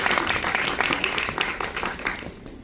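An audience at a Pretty Guardian Sailor Moon: The Super Live Q&A event claps steadily in warm applause that welcomes the director, filling the hall and tapering slightly at the end.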